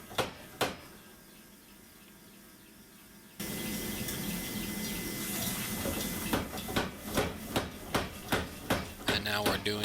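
Damascus chef knife blade being forged between flat dies, a steady loud hiss of machinery under a run of rhythmic heavy hammer blows that grow regular near the end, with a couple of isolated strikes at the start.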